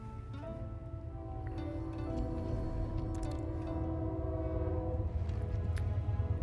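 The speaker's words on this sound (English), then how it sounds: "Train alert." A train horn in the Final Fantasy 16 video game sounds a sustained, steady blast over a low rumbling rail bed and faint clatter, building slightly louder through the stretch with no talk.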